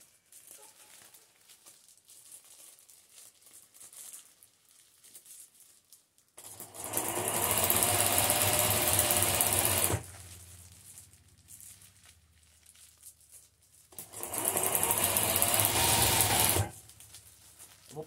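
A sewing machine runs in two loud, sustained stitching bursts, each a few seconds long, separated by a quiet pause, as it hems a patchwork rug made from a corn sack.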